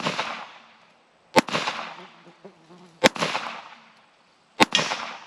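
Handgun gunshots from a compact carry pistol holding 13 rounds during outdoor target shooting: three sharp, loud cracks spaced over a second apart, each with a long fading echo, and a quiet murmur between shots.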